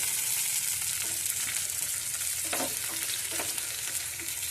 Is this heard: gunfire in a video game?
no